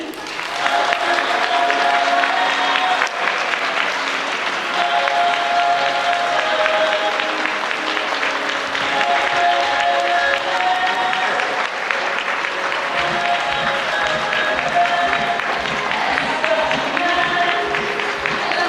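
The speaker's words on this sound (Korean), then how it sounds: "오늘의 주인공 신랑 신부에게 뜨거운 박수 보내주시기 바랍니다." Sustained applause from a large crowd at a wedding ceremony as the bride and groom march out, dense clapping continuing throughout, with music playing in the background.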